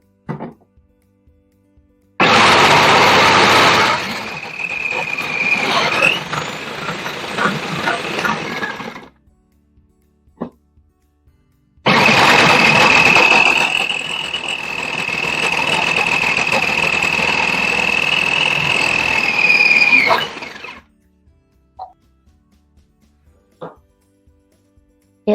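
A food processor fitted with a grating blade grates bars of laundry soap in two loud bursts, a whining motor with rough grinding, the first about seven seconds and the second about nine, separated by a pause with faint handling noises.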